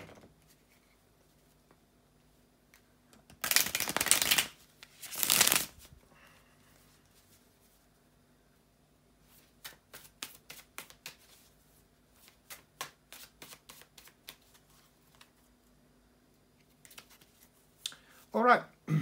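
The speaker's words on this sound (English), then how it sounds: "bear with me a second, guys, to shuffle the cards" Tarot cards shuffled by hand in two loud riffling bursts, followed by a scattering of soft taps and flicks as the deck is handled and squared, close and quiet between.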